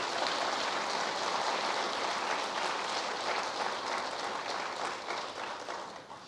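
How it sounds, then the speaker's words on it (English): Sustained audience applause fills a university president's State of the University address, dense steady clapping from a large crowd that holds level and then tapers slightly toward the end. "Let's give them a big round of applause."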